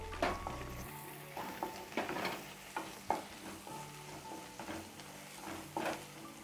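Cluster beans frying in a pan, a steady close sizzle with frequent scraping and stirring knocks of a utensil against the pan, no voices.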